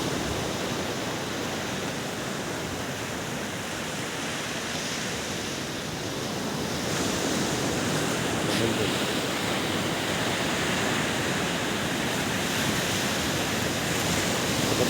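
Big waves surge onto a sandy beach in a constant, washing roar of surf, moderately loud with a gentle swell in intensity partway through and some wind noise, with no one speaking.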